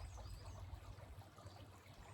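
A babbling stream trickles and gurgles steadily, a soft continuous wash of flowing water with low rumble, heard alone at a calm, moderate distance.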